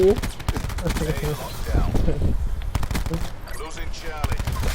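Gunfire in a Call of Duty Black Ops 4 multiplayer match, loud rapid bursts and single cracks repeating throughout, mixed with someone talking excitedly over the shooting.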